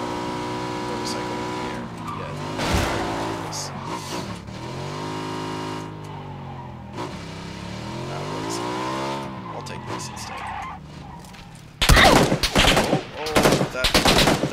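A motorcycle in PUBG revs and drives in rising and falling whines, loud and continuous, then sharp bursts of gunfire break in near the end.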